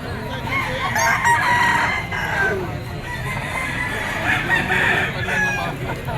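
A dark-legged Gilmore gamefowl bull stag crows loudly and close by in a long drawn call. Clucks and other fowl sounds run through the background.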